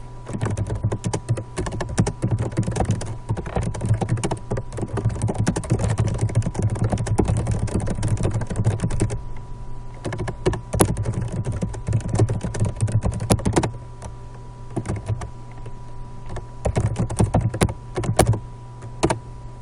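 Typing on a computer keyboard, rapid uneven clicks and taps that run continuously and close up, with brief pauses between bursts and a low hum underneath.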